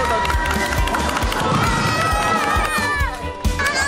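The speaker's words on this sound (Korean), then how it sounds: "아빠의 우승 소식에 환호하는 삼남매" Three siblings cheer and shout excitedly in a loud, busy burst after their father's competition win, with overlapping children's voices and crowd noise throughout.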